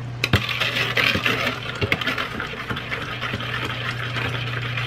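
A spoon stirs sugar into freshly poured hot tea in a cup, giving quick, close clinks and light scrapes in an uneven rhythm over a steady low hum, with no one talking.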